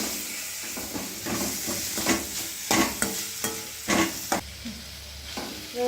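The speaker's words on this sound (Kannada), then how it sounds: "ಉಪ್ಪು ಹಾಕೋದ್ರೆ ಚೆನ್ನಾಗಿ ಫ್ರೈ ಆಗಲಿ ಅಂತ. ಚೆನ್ನಾಗಿ ಫ್ರೈ ಆಗುತ್ತೆ." Chopped chayote sizzles in a hot pan with salt, a steady fry hiss broken by repeated scraping stirs and clinks of a spatula, close and fairly loud, with no talking.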